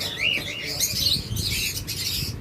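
Lovebirds and Java sparrows chirp and twitter in quick, overlapping calls, close and fairly lively, with no voices.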